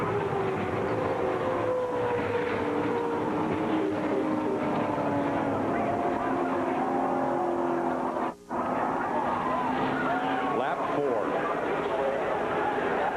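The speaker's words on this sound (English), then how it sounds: "Here they come to the flag, and everybody pretty much out of the throttle." NASCAR Cup Series race cars, including the Petty Enterprises #43 in 2003, roar toward the flag in a sustained loud engine drone with shifting pitch, under continuous commentator talk.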